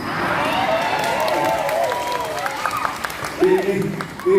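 Audience applause and crowd noise at a Balinese Drama Gong performance, a dense continuous wash of clapping mixed with voices and cheers, loud and close, with people talking over it.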